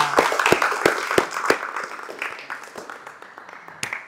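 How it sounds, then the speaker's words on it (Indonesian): Scattered hand claps from a small group of vocational automotive students in a classroom, a few sharp, distinct claps at first, thinning out into a light, fading patter. "tepuk tangan untuk kita semua"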